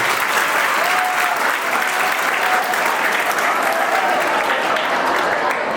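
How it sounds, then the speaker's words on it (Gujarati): An audience at a school folk programme bursts into sustained, loud applause, the clapping dense and unbroken from start to finish. "તાળીઓના ગડગડાટથી પેલા બિરદાવો છો."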